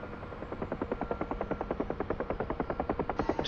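A Huey gunship in a flight simulator game gives a steady rhythmic rotor thump, with blade slaps pulsing evenly and slightly quickening, heard alone at moderate level with a faint high whine.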